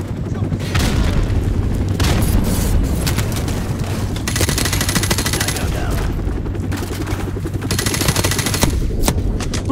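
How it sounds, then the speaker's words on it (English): Grenade blast and sustained automatic gunfire in the shooter game Modern Warfare Remastered, loud and dense throughout with repeated booms over rapid rattling fire, voices shouting in the mix. "Grenade!"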